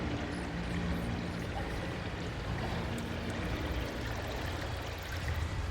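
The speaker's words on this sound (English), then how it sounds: "Water again." Flowing water in the game Soulstice, a steady, even rushing and pouring wash that is moderately quiet and unbroken, with no talking.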